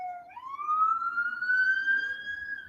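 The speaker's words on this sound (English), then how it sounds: "Once this ambulance gets done passing by." A passing ambulance siren sounds as a single smooth wail that rises in pitch and holds, clear and moderately loud outdoors.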